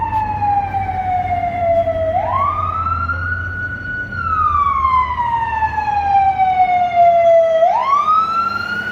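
An emergency vehicle siren wails through Beverly Hills street traffic, loud and close, its pitch sweeping slowly down and then rising sharply again in two long cycles over a low rumble of road noise.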